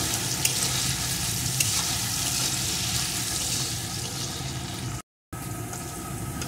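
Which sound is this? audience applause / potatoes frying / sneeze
potatoes frying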